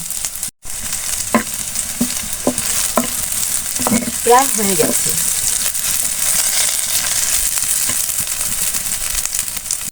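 Onions fry and sizzle steadily in a pan for chapa shutki bhorta, with a utensil scraping and stirring in intermittent strokes; a voice speaks briefly over the cooking.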